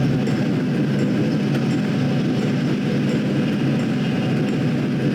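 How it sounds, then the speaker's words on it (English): A passenger train rumbles steadily into a station at close range, a continuous heavy rolling noise with faint rhythmic clatter and no voices. "she heard a horn and a passenger train came in."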